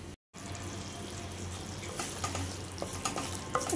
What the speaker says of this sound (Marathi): आता हा पीठ मी भाजून घेते.